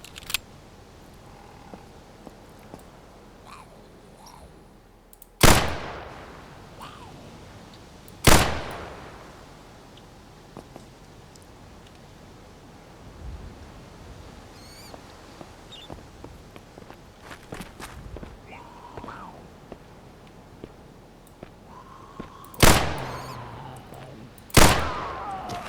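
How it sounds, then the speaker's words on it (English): Four sharp gunshots ring out in the zombie game Vein, each a loud crack with a short decaying tail. They come in two spaced pairs over a quiet backdrop of soft footsteps and faint movement. "Seems to take a couple of shots to take them down with this weapon."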